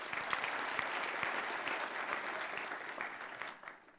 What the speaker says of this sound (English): give yourselves a round of applause for making it here